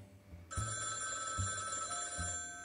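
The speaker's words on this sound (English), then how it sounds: "You expecting a phone call from Barton?" An old-style telephone bell rings in a film noir office scene, three bursts of ringing in quick succession, clear and fairly close, with no talking over it.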